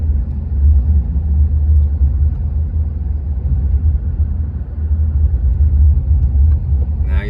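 A car drives through the tiny remote town of Ione, Nevada, its low, steady engine rumble and road noise loud and continuous, with a brief faint sound near the end.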